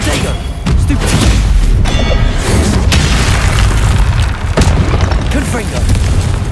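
Spell combat in Hogwarts Legacy: heavy booming blasts and thuds roll one after another, loud and dense, with a player shouting over the noise.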